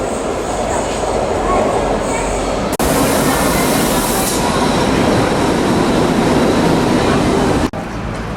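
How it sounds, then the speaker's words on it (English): Metro train at Colosseum station in Rome, a loud continuous rumble and rush of rolling wagons with wheel noise filling the platform, steady and close throughout, with an abrupt shift midway as the sound changes. "This is the Colosseum Metro, and it has double sides, one for one direction, one for the other direction."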